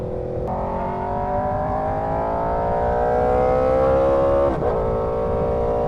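A car engine drones steadily and climbs in pitch under acceleration, broken by two brief clanky gear shifts, close and continuous throughout.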